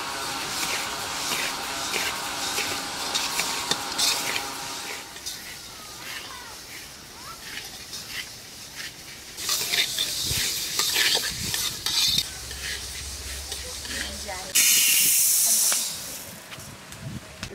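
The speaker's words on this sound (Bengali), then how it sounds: "প্রথমে আমি শুকনো কড়াই ডালগুলো ভেজে নেব।" Lentils dry roast in a dry kadai with a continuous close scraping and stirring rustle, with hissy bursts partway through, and a voice speaks briefly in places.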